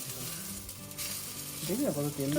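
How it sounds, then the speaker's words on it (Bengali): Eggplant slices frying in oil hiss with a steady, close sizzle throughout, and a wavering tonal hum joins in over the last second. "এই তো এখন বেগুন ভাজা হচ্ছে"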